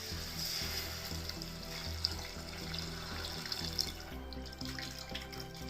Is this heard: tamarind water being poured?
yes